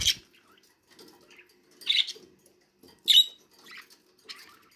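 Parrots for sale give a few short chirps and squawks, one sharp call near the start and louder bursts around the middle, with a faint scratching patter between them.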